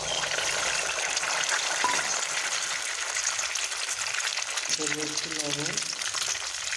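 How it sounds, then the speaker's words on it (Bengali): Two beaten eggs poured into hot oil in a heated kadai for fried rice, giving a steady loud sizzle and hiss throughout, with a voice speaking briefly near the end over the frying. "তেল দেওয়ার পরে দুটো ডিম ফেটে রেখেছিলাম সেটা ঢেলে দেব।"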